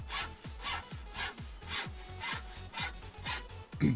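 Steady back-and-forth hand-saw strokes on wood in the video game Farming Simulator 17, about two per second, with a soft rasping texture over a faint low hum, ending with a small clatter.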